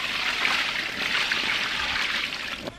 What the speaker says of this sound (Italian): Primo secchio di acqua.